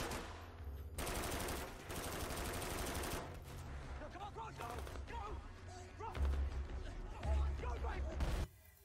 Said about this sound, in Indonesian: Ketika para teroris sedang sibuk menembak secara acak